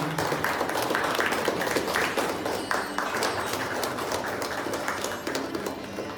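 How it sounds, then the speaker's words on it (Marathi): Audience members at a calendar-launch ceremony greet a guest with applause, a steady crackle of many clapping hands that holds for several seconds and gradually softens. "जोरदार टाळ्यांनी विजय पालकर जोडले स्वागत केलं"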